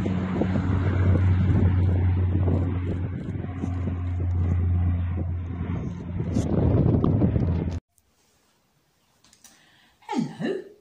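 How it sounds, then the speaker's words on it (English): A propeller aeroplane takes off, its engines making a loud, steady droning roar close by that swells then cuts off abruptly, followed by near silence and a brief faint sound at the end. "It was making such a noise with its engines and propellers."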